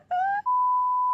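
Short electronic timer beeps as it is switched off: a brief rising tone, then a steady sustained high beep lasting under a second, loud and alone.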